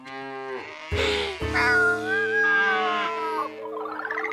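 Cartoon cows moo in long, overlapping, wavering calls that swell and hold for a few seconds, close and loud, with a brief clatter near the start.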